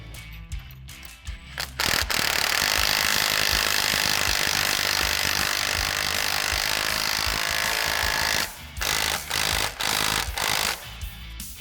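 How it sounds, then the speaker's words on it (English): An impact wrench with a 19mm socket runs up a nut while installing a rack and pinion on a Polaris RZR Pro XP, a long loud continuous buzzing rattle of several seconds, bracketed by short bursts and pauses. "I like to get a 19mm socket with an impact, and then a 22mm wrench, and I like to hold the lower nut with the wrench"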